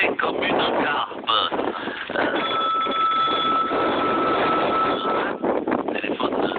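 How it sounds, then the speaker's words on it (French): A telephone rings with steady sustained tones, loud and close, over a muffled background with some voices and rumble. "Téléphone."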